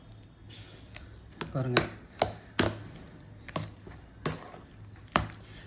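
Soft-cooked moong dal for sambar is mashed with a ladle in a pot, giving a series of scraping knocks and dull thuds at an uneven pace, close by, while a person talks.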